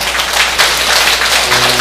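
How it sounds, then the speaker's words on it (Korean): An audience at a Korean talk show event bursts into dense, loud applause that continues evenly throughout, with many hands clapping at once. "본부장님, 박수 한번 드리세요."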